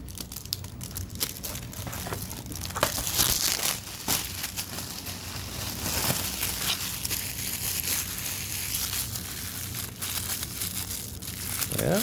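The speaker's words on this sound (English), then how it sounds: "Yeah, there's some old cellophane." Old cellophane wrapping on a sealed 1983 CED videodisc crinkles and crackles up close as it is handled and peeled, a dense run of sharp crackles and tearing rustles lasting throughout.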